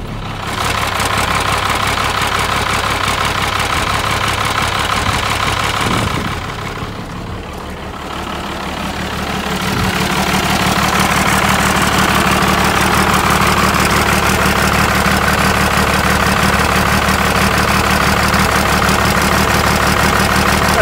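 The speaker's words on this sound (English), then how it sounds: "That turbo's actually spinning, it doesn't look like it in the camera." Diesel engine fitted with a compound turbo setup idling, a loud steady close drone that dips briefly midway before returning to an even rumble, no talk.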